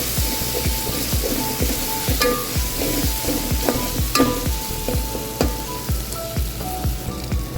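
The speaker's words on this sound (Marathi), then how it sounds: "फ्राय करून घ्यायचं." Masala for a fish curry fries in a pan with a continuous sizzle while a spoon scrapes it in quick, regular strokes, close and steady, with no one speaking.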